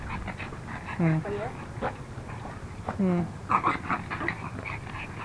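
A stray dog pants and lets out a few high whimpers at close range, while people talk in the background.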